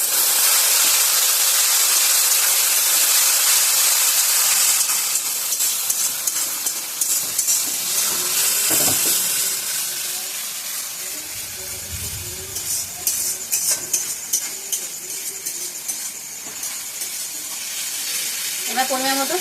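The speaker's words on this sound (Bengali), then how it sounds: "কষানো হয়ে গেছে, মশলার বাটিটা দিয়ে জল দিয়ে দিলাম।" Water poured into sautéed spice masala in a hot pan sets off a loud, steady hiss of steam that eases midway, then crackles and bubbles on.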